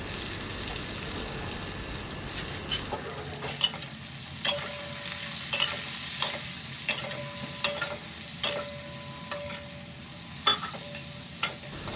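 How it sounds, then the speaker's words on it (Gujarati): Okra tossed into hot oil tempered with mustard, cumin, fenugreek, hing and turmeric, frying over a low flame with a steady close sizzle and regular spatula scrapes against the pan. "2 ચપટી જેટલું હિંગ અને હળદર નાખવા અને ભીંડો વઘારમાં નાખી દેવો."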